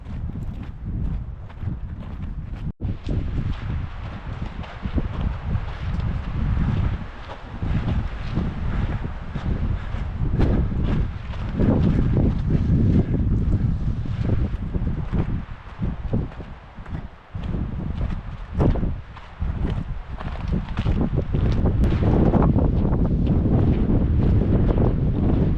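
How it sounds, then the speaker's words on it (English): Strong gusting wind roars across an exposed mountaintop during the Kodiak 50K trail ultramarathon, buffeting the microphone in loud, continuous rumbling bursts that rise and fall for the whole stretch, with no talking. "blowing me right off the mountaintop here. It's crazy, the wind."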